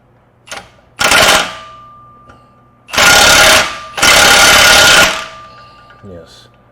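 A power tool tightens a part on a GM 3.6L engine in an Acadia, sounding as three loud close bursts of rapid hammering, each about a second long, with a person talking around them.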